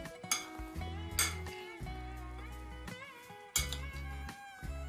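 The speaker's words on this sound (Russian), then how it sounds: "Перемешиваю все ингредиенты." Utensils clink and scrape against a bowl in a few sharp knocks while crab stick salad ingredients with red beans are mixed, faint and close, with quiet music underneath.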